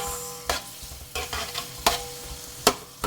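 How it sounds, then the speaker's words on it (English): A long spoon stirs a fresh chicken curry base in a pot, making four or five distinct scraping strokes over a soft sizzle, close and with no voices. "So I'm just going to mix this up a little bit. So I've just gotten a long spoon"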